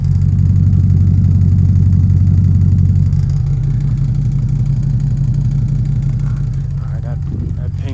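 Hummer H2 fitted with a Borla Touring exhaust idling nearby, a steady deep low grunt and rumble that holds evenly throughout, with a faint pinging sound audible over the exhaust note.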